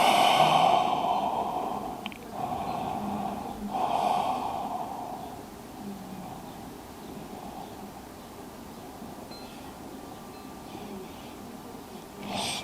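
Slow, deep breaths during a yoga flow, long audible inhales and exhales spaced a few seconds apart, fairly close over a soft, steady background with no talking.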